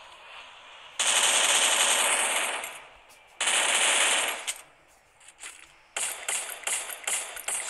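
Automatic gunfire from a gun in the video game Free Fire, two long sustained bursts followed by a choppier run of rapid shots, loud and close with brief mechanical clicks in between.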